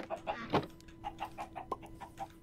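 Minecraft chickens cluck in a quick run of short, soft, evenly spaced clucks, with one louder squawk near the start, all quiet and without speech.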